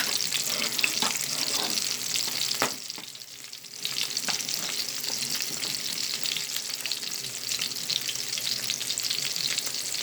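Homemade meatballs fry in a pan with a steady, close sizzle and crackle, briefly quieting midway as they are stirred or moved, with no talking.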